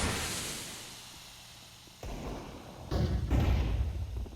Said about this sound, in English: Grenades flying all over the shop.